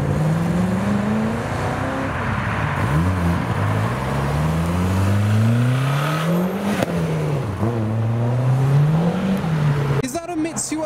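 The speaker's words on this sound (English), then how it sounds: "GT40, give us some sounds." A Ford GT40 engine revs repeatedly nearby, climbing and dropping in several rising sweeps at a loud custom car gathering, with a brief burst of other noise at the end.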